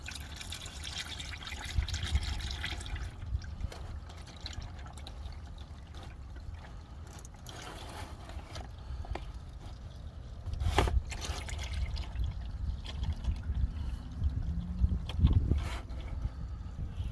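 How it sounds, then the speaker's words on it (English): Engine oil draining from a Jeep Gladiator or Wrangler into a drain pan outdoors, a faint steady trickle and splatter of liquid under gusting wind, with occasional handling knocks. "So there we go. Oil's coming out."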